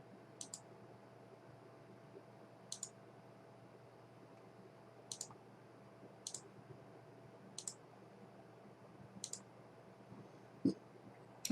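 Computer mouse clicks while editing video, sharp close double clicks repeating every second or two over a quiet room hum, with a slightly louder click near the end.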